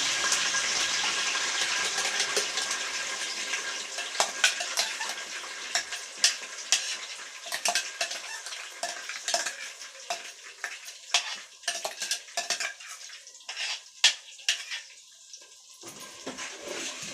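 Ground onion, tomato and green chilli fry in oil for a fish curry while being stirred, a bright close sizzle with repeated spoon scrapes and knocks that thin out toward the end.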